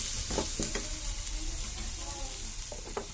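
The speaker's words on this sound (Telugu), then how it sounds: "చూడండి ఆనియన్స్ ఫ్రై అవుతున్నాయి" Onions frying in a pan with salt, a steady close sizzle running throughout, broken by a few brief scraping stirs of a utensil.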